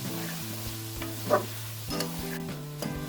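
White chicken karahi being stirred in a pan over a low flame, with soft scraping and a gentle, steady sizzle under a faint hum; no talking.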